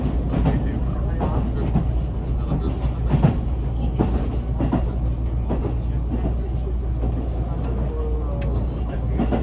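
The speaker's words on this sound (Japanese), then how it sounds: "そしてこの電車が走っているのが飯田線と目鉄線の上り線です。" Limited express Inaji running on the Iida Line's up track, on the section shared with Meitetsu: a steady, close, rumbling ride with faint rhythmic rail clicks throughout, and soft voices underneath.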